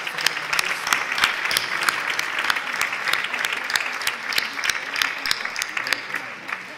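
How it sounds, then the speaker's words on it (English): A conference audience at the opening of Unite the Field 2023 in Israel claps for the diplomatic community. Individual sharp claps stand out within steady, moderately loud applause that continues for several seconds. "I want a round of applause, first of all, for the diplomatic community."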